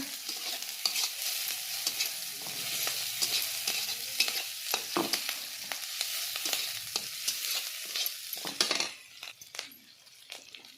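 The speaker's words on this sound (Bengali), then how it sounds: "এখন পেঁয়াজ কুচিগুলো আমি ভেজে নিব" Chopped onions and chilli fry in a pan for a Bombay duck chutney, a dense close sizzle broken by frequent spatula scrapes and clinks, easing toward the end.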